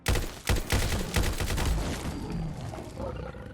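A PKM machine gun modded into Fallout 4 fires a loud rapid burst at a Deathclaw, shots hammering in quick succession and then tailing into a growling, roaring decay.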